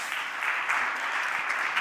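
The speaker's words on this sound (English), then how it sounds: "Big round of applause." An audience at an esports panel on gender claps to welcome a guest, a steady moderate wash of applause with no talking.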